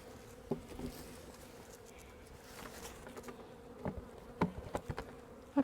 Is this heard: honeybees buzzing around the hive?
yes